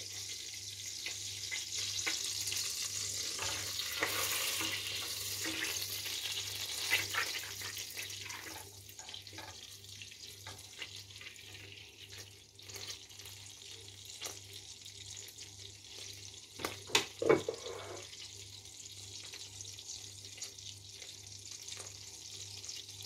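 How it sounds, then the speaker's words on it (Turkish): Starchy water draining off rinsed rice, a soft running trickle like a tap into a sink that fades after the first few seconds, followed by a brief clatter, quiet and with no voices. "Nişastalı suyu aktı. Biraz daha aksın şurada."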